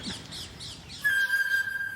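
A few repeated chirps are followed by a sustained, shrill, high-pitched screech from a ring-necked parakeet in Paris, clear and fairly close.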